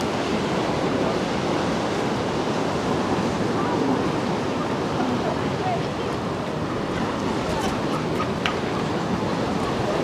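Sea waves churn and wash continuously under strong wind at the Paphos waterfront near a restaurant, with loud broadband rush and gusting wind buffeting the microphone throughout.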